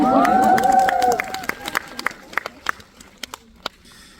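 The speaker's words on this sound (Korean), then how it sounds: "박수 부탁드릴게요" At a special guest screening event for a Korean film, voices and cheers ring out briefly at the start, then scattered individual claps from the audience continue sparsely and fade.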